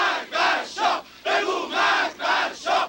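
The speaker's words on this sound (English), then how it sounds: "The crowd shouted death to the Shah." A large crowd at an anti-Shah street demonstration in Iran chants in loud rhythmic bursts, about six shouted phrases separated by brief pauses, with no narration over it.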